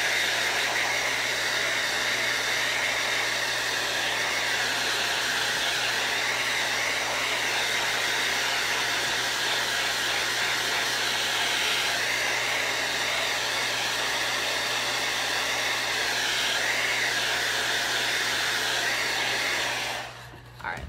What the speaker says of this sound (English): Let me dry these seeds real quick so I can do all my highlights in one go.